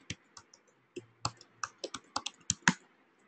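Keys on a computer keyboard clatter in an irregular string of crisp, close clicks, sparse at first and then quicker, entering a username and password with no voices.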